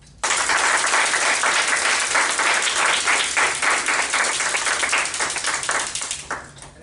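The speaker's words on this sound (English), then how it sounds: "Please help me welcome them with one last round of applause." A Toastmasters club audience gives a loud, dense round of clapping for its outgoing leaders, lasting several seconds and easing off toward the end.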